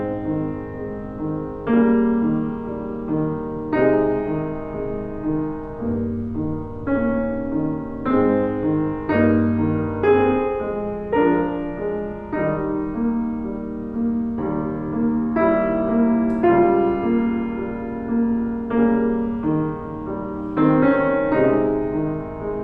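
Piano chords and melody with the sustain pedal lifted and pressed again on each change of harmony, so each chord rings out warmly without blurring into the next. The slow passage is played alone at moderate volume.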